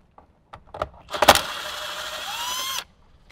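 A power driver whirs steadily for about a second and a half while backing out a dash screw on a 2007–2018 Jeep JK Wrangler, preceded by a few light clicks and handling taps, then stops abruptly.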